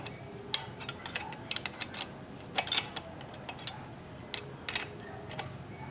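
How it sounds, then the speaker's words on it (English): On a Harley with S&S Premium hydraulic tappets, a locking nut on a lifter is tightened down, giving faint, close, irregular metallic clicks and ticks with quiet gaps between them. "you go to that locking nut, and you bring that locking nut down on the lifter top"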